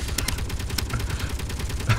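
Rapid bursts of gunfire from pirates in the video game Space Engineers crackle in quick succession, a dense rattling volley with a game-like, processed character and no talking.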